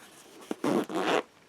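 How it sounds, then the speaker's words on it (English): A clothing zipper freshly rubbed with silicone grease is worked twice in quick succession, giving two short, close raspy zips after a faint click in a quiet setting. "Go ahead and rub it on the zipper itself."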